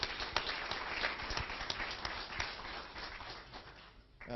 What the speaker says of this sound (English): Let's give a round of applause to Banca Transilvania.